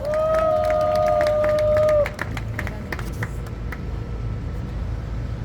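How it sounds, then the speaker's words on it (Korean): A seated crowd at an outdoor peace and memorial cultural festival breaks into steady, sustained applause for an introduced activist, a dense wash of many hands clapping that carries on evenly, with a brief tonal sound at the start. "큰 박수 부탁드립니다"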